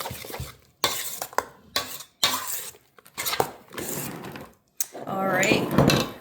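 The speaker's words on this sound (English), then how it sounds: "I'm just gonna go ahead and stir those in by hand" Raisins are stirred by hand into carrot cake batter, with a spoon knocking and scraping around a bowl in uneven bursts while a person talks over it.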